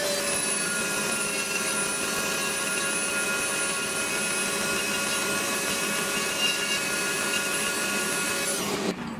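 A wood router cuts a beveled guitar body, making a steady, high-pitched whine with a constant tone that runs unbroken and then stops abruptly at the end, close and without any talk.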